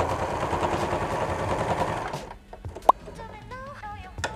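A Janome 2222 sewing machine stitches through a stack of 16 layers of thick fabric with a fast, steady mechanical chatter. It stops abruptly, then a few scattered clicks and handling noises follow as a voice speaks.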